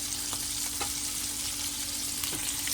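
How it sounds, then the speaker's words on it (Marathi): Bombil (Bombay duck) fish fry in hot oil in a pan, giving a steady, close, bright sizzle with a few faint clicks and pops. No one speaks. "मस्तपैकी मोठमोठे बोंबील आहेत मस्तपैकी फ्राय होतात"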